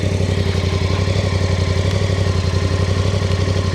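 A KOVE 625X Pro motorcycle engine idling steadily just after starting, a loud, close, even low thrum with a fast regular pulse and light mechanical clatter, heard alone without talk.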